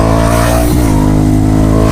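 A car exhaust fitted with a dB killer insert drones loudly and steadily as the engine revs up, dips briefly and climbs again, heard up close with no talk.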